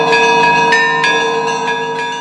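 Russian church bells of the Nilov monastery pealing, a medium-sized bell among them, with repeated strikes ringing out in a steady melodic pattern and long overlapping resonance, loud and close with no voices.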